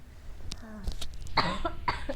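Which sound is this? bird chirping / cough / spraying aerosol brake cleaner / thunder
cough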